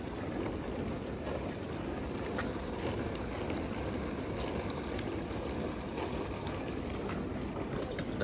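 A 2012 Panasonic NP-TR5 dishwasher runs a test cycle, with a faint, steady rush and slosh of spraying water continuing evenly throughout.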